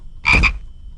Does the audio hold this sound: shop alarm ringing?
no